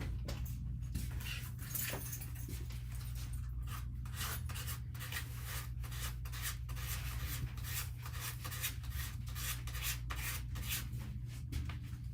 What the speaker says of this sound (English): this one I'm going to try the card scraping